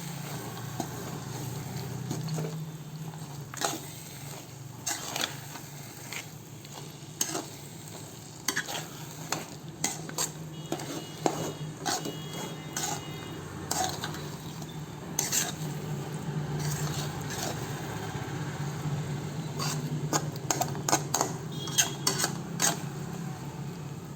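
A spoon stirs roasted fenugreek-mustard powder into gongura pickle, scraping and clinking steadily against the pot with a soft wet rasp, close and fairly quiet, over about twenty seconds without talk.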